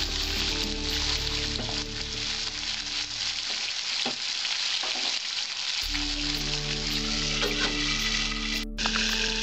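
Green chillies fry in a pan for a Bengali drumstick chorchori with mustard paste, producing a steady close sizzle over a low electrical hum, with the hum briefly dropping away midway.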